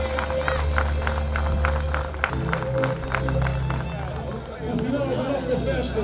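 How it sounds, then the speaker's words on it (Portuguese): Crowd applause and cheering at the podium ceremony of the 28th Grande Prémio JN cycling race in Porto and Vila Nova de Gaia, a steady outdoor wash of clapping and crowd noise with a public-address voice over it. "Mais um aplauso para estes campeões."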